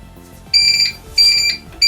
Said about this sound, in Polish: Powinien zacząć pikać.